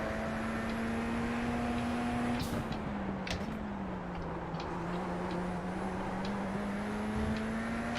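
A race car engine in iRacing at Sebring during a night race holds a steady loud drone in third gear, its pitch sagging slightly and rising again, with a brief downshift blip and faint clicks over the top.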